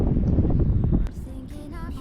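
Gusty wind buffets the microphone at a bay along the Göcek coast, a loud low rumble that drops off after a second, leaving quieter airy noise.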